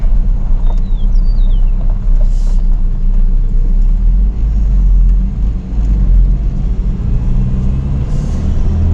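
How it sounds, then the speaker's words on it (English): A car pulls in and idles behind a parked vehicle during a Sunday drive, a steady low engine rumble holding fairly loud throughout, with faint high tones and no talking. "There's a car that pulled in"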